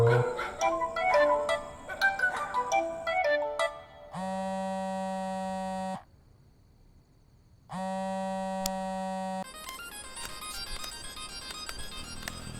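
A telephone rings in two long electronic bursts with a silent gap between them, loud and alone, preceded and followed by busier background sound with some faint talk.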